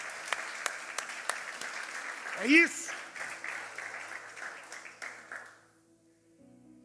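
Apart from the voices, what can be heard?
audience applause in church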